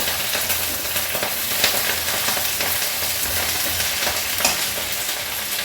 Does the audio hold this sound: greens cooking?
yes